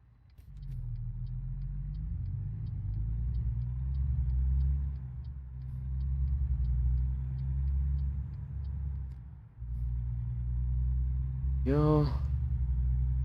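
A car engine in a driving video game rumbles steadily and loudly throughout, with small shifts in pitch, a brief dip near the end and a short rising tonal sweep just after.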